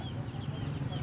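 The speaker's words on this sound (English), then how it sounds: "That's a bunch of chicken." Chickens in an agricultural trading shop that sells animal feed in Babak, IGACOS, with continuous overlapping clucks and bird calls over a busy, dense background.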